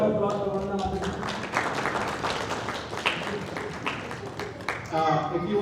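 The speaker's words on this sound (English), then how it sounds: "Big round of applause for Vandana Mataji." Applause from a gathering honouring a feast sponsor at a Bhakti talk in Toronto, a continuous spread of clapping hands framed by brief voices at the start and end.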